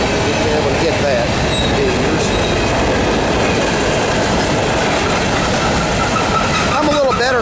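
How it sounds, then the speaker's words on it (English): A CSX manifest freight train led by an ET44AC locomotive rolls past close by, a loud continuous rumble of wagons with clickety-clack wheel beats and some squealing, and a voice is heard over it. "I couldn't have recorded this train if I'd have wanted to"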